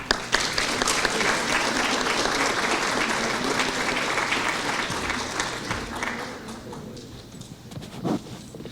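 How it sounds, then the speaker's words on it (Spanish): Sustained audience applause sends off departing guests at a seminar, dense and steady clapping that fades after about six seconds into scattered claps and a brief voice. "Nuevamente los despedimos con aplausos"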